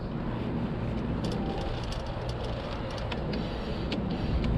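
Bike on a test ride gives a quiet, steady rolling hum and wind rush, with faint ticking clicks scattered through and no talking.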